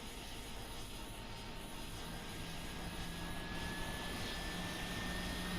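Steady, loud jet cockpit roar of an F-22 Raptor in the Flight Simulator X game during low-level flight over the Alps, a constant broadband rumble and whine that holds unchanged throughout with no talk.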